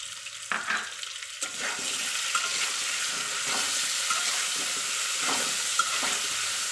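Spices fry in a pan with green chili and ginger paste for a pumpkin, potato and chickpea curry. A steady loud sizzle runs under repeated stirring scrapes, with a few brief sounds at the start. No talk.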